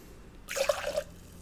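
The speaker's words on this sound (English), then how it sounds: "I continue pouring awful things into this mixer. Alright, so there's our bourbon" Bourbon is poured into a cocktail mixer. Quiet stillness gives way to a half-second burst of splashing liquid with a few drippy plinks, then falls quiet again.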